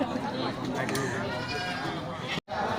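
Goats and sheep at a livestock market bleating, wavering cries heard over continuous nearby talk and crowd chatter, with a brief dropout near the end.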